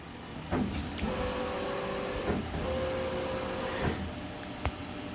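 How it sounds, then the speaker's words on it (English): A Southwestern Industries Trak 1630 CNC lathe makes cycle cuts: a steady machine hiss and whir with a thin tonal whine that rises in two sustained passes, broken by short clunks and clicks of the tool moving. "it's making some cycle cuts. Then it's going to go around, take the profile, come back for a second finish cut."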